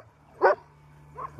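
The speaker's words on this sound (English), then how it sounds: "She's always got bark when she plays." A playful dog lets out a couple of short, sharp barks close by, separated by a brief quiet gap in a calm indoor space.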